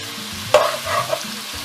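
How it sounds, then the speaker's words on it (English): Meatballs fry in a pan with a steady close sizzle, broken by a short clatter of stirring partway through; no voices. "I'm just going to fry the meatball to golden brown before I add my gravy"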